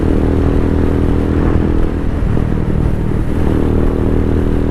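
Venom X22R motorcycle being ridden, a loud close steady engine drone with a brief dip in the revs midway before it evens out again, heavy wind and road noise throughout.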